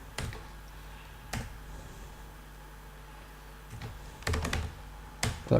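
Someone types code on a computer keyboard in short bursts of quick, close key clicks separated by quiet pauses, over a faint background hum.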